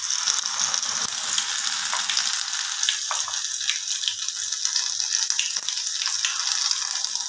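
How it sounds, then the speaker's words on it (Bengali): Battered chicken pieces deep frying in hot oil, a dense steady sizzle and crackle with scattered bright pops, close and loud throughout with no talking. "সবকটা চিকেন আমি এরকম ভাবে ফ্রাই করব।"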